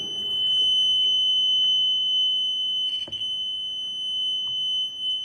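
A continuous high-pitched electronic flood warning alarm buzzer sounds steadily throughout, loud and close, with a few faint knocks and handling noises underneath.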